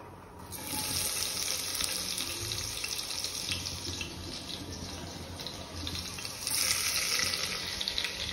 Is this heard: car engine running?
no